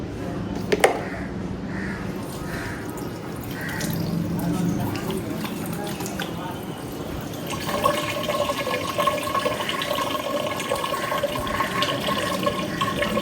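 Tap water runs steadily while a woman washes her face with face wash in a home bathroom, a continuous splashing flow that grows louder partway through, with faint speech in the background.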